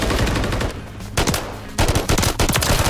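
Rapid pistol gunfire in a scrapyard map of an online shooter game, loud clustered bursts of sharp shots separated by brief gaps, close and dominant with no talking.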